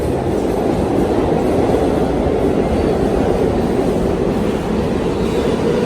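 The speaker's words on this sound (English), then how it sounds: "That's a Q. It's an R46, which is my favorite subway model" An R46 subway train leaving a New York City station rumbles loudly and continuously at close range, a dense low roar of wheels and motors with no voices.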